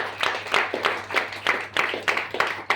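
A crowd claps in a loose, rippling rhythm of many hands, moderately loud and sustained, with no voices over it.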